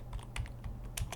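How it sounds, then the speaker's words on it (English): Keys tapped on a computer keyboard in short, irregular clicks, a handful of quiet, close keystrokes with brief pauses between them, the last one or two landing like an enter press. "press enter on the keyboard"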